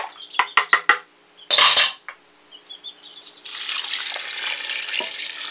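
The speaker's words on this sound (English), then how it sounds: "We're going to add in 3 cups of beef broth." Beef broth poured into a pressure cooker pot, a steady wet splashing rush that fills the second half, preceded by sharp clinks of utensils and a cup against the pot.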